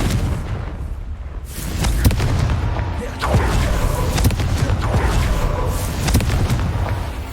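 In Hogwarts Legacy, a Confringo blasting spell is cast during a Merlin trial. Several booming, thudding explosions follow one after another at close range over steady background noise.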